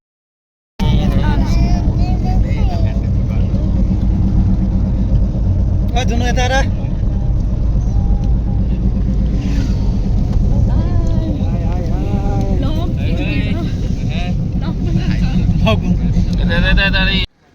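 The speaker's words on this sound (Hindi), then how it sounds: "दोस्तों फाइनली हम लोग निकल पड़े गाड़ी में।" A car on a road trip, with its steady engine and road rumble continuing throughout while people talk inside the vehicle.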